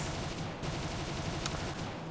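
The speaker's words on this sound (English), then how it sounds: "I'm firing a little bit wild, get a hit" Aircraft cannon and machine guns of an Fw 190 D-13 fighter in War Thunder, firing in a steady rattling burst over engine drone during an air battle, loud and continuous, with no talking.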